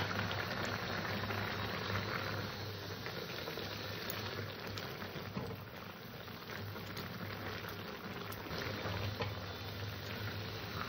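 Mixed vegetables cooking in an uncovered pan give off a steady, dense bubbling sizzle that holds at an even level throughout, with no voices.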